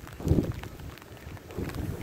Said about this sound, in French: Je suis désolée, il y a du vent, j'espère que vous m'entendez toujours